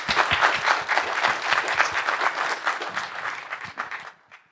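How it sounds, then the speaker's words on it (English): An audience at a community tech conference opening keynote applauds the organising committee and volunteers, with sustained, dense clapping from a large crowd that thins and fades out near the end. "So a massive applause to the committee and to the volunteers."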